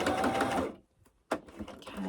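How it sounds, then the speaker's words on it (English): A sewing machine stitching along the edge of fabric in a short burst, a quick mechanical whir that stops, then a brief clack and restart, recorded close. "I'm going to sew up about 10 stitches."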